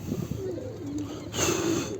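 A crested pigeon gives soft, low coos in two short murmuring phrases, close by and fairly quiet, with faint background noise.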